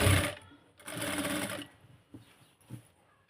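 A sewing machine stitches the hip joint seam of a Punjabi dress in two loud bursts of whirring, one brief and one longer, separated by a pause, followed by faint handling clicks.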